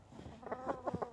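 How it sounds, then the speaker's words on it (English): Chickens out in the snow give a few short, separate clucks, fairly close but soft, spaced about every fifth of a second near the end, with no talking. "while we're looking at chickens in the snow"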